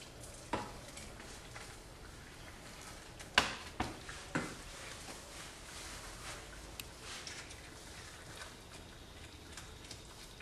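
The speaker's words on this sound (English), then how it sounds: "Keep stirring." Gentle stirring of risotto rice and stock in a pan, with a soft simmering sizzle throughout and a few sharp spoon taps against the pan near the start, close and quiet.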